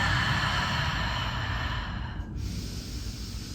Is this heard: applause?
no